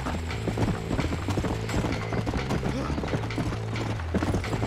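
Rhythmic clip-clop of horse hooves in Red Dead Redemption, repeated close footfalls at a steady trot under game background sounds, with a faint whinny.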